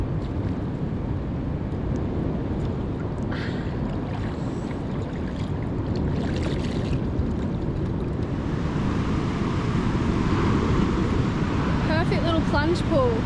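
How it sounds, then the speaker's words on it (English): Waves roll onto a remote beach on the Eyre Peninsula in South Australia, a steady broad wash of surf with wind noise, and people talk briefly over it. "some not bad waves out there"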